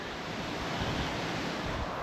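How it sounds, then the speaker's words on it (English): Strong wind roars continuously, a dense broadband rush like surf, steady and loud with no voices. "it's getting quite windy again"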